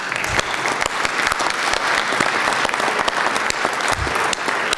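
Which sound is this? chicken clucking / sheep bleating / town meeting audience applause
town meeting audience applause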